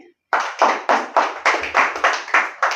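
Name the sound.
hands clapping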